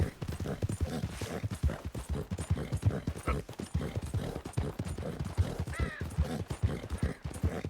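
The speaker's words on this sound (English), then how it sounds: "That's my girl, Lumi, the best horse around" Horse hooves clip-clopping at a gallop in Red Dead Redemption 2, a dense rapid rhythm of near, loud hoofbeats throughout, with a brief whinny-like tone late on.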